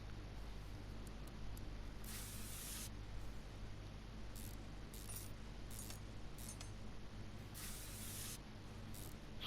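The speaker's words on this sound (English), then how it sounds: "So we will keep screwing, or unscrewing" Bolts being unscrewed with a power tool in the Car Mechanic Simulator 2021 video game, heard as repeated short bursts of bright hissing whirr of varying length over a steady low hum, with no talking.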